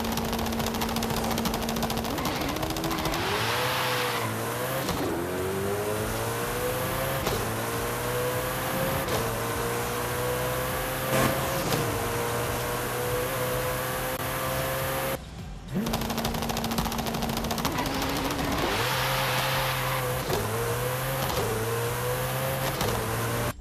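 A Koenigsegg Jesko accelerates hard in Forza Horizon 5. Its loud, close engine climbs through the gears in repeated rising sweeps with short shift breaks, and the sound cuts out briefly partway through.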